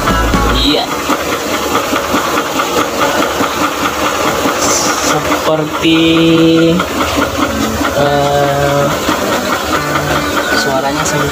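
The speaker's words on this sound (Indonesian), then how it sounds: "Ini suara mesin ini mulus sekali" A Daihatsu Taruna CSX engine idles with a smooth, steady hum up close, while someone talks over it and a few brief tones sound.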